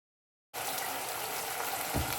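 Water is poured into a pot of prawn coconut curry cooking with onions and drumstick pieces, making a steady, close rushing splash that starts abruptly and continues without pause.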